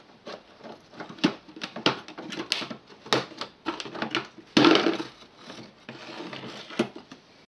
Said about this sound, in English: So now I can pull the filter out.